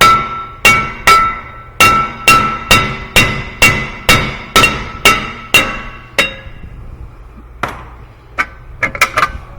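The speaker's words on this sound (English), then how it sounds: "Now the rotor, hit it on the corner, don't hit it on the surface where the pads are." A hammer strikes the corner of a rear brake rotor on a 2015 Subaru Forester AWD, a dozen loud, evenly spaced metallic clanks with ringing tails, followed by a few scattered lighter taps.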